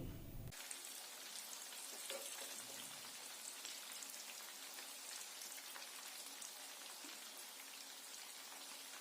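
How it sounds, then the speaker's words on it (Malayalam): Chicken pieces fry in oil for street-style chicken noodles, giving a dense, steady crackling sizzle close up that starts abruptly and carries on evenly throughout, with no voices. "ഇപ്പോൾ ചിക്കനൊക്കെ ഇവിടെ നല്ലതായിട്ട് ഫ്രൈ ആയിട്ടുണ്ട്."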